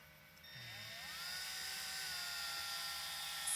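A power drill driving screws into a 3D-printed trailer build whirs up to a steady, rising mechanical whine that holds for several seconds, nearby and fairly loud.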